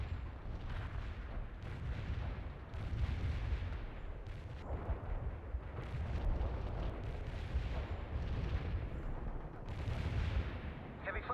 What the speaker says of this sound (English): Deploy and lay down the heavy barrage.